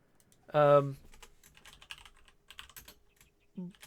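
Keys clatter on a computer keyboard in quick, light clicks after a short voiced hum, then typing trails off into another brief vocal sound.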